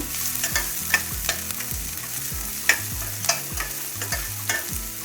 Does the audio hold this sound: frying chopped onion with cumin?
yes